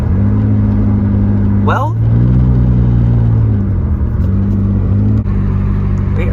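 A 1983 Volvo 242 cruising after transmission work, a loud steady engine rumble with shifting harmonic tones and one quick rev sweep near the start, while someone talks briefly over it.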